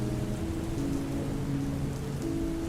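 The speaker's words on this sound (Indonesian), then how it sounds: "Hujan makin deras." Heavy rain pours steadily and close by, a dense, continuous wash of drumming with no pauses and no voices.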